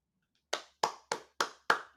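Six sharp, close hand claps from a single person, evenly spaced in a brisk rhythm after a short silence.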